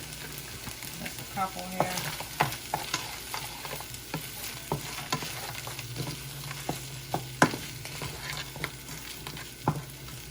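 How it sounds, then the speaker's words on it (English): Shrimp fry in a pan for fried rice with a low sizzle and scattered sharp clicks and scrapes of stirring, while a voice briefly speaks. "we're gonna go ahead and throw in that shrimp. Gonna put that shrimp in there."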